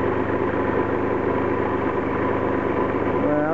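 An Audi A6 engine with 142,000 miles and years of neglect idles steadily after a replacement spark plug was fitted, giving a continuous close, rough drone with a diesel-like clatter.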